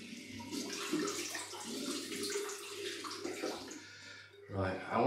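Tap water runs steadily to warm a RazoRock Game Changer 84P Jaws safety razor at a bathroom sink, a continuous close splashing hiss that swells louder in the final second.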